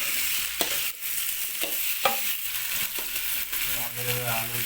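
Close, steady sizzling as chopped eggplant, radish and capsicum fry, punctuated by several sharp spatula scrapes and clicks against the pan, with no talking.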